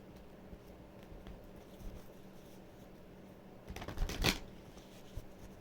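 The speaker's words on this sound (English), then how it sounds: "So we have to get 3 cards right now." Tarot cards are shuffled in a short, close riffling burst after several seconds of quiet handling.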